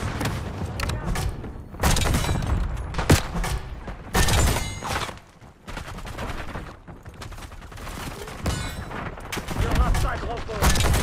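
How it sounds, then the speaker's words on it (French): A stun grenade is thrown in the video game Black Ops 6, followed by bursts of gunfire, booms and thuds in loud, dense clusters that rise and fall throughout. "Je lance une grenade paralysante."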